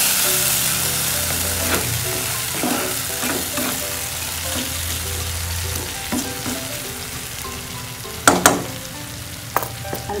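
Sardines simmer and sizzle in a pan, a steady frying hiss with occasional crackles and a few sharp clinks of a utensil near the end, with no talking.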